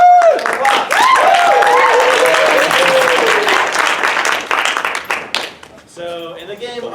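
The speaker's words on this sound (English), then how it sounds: "And give them a applause." Audience at an improv comedy show applauding steadily, with whoops and cheering voices over the clapping; the applause fades toward the end as a voice begins speaking.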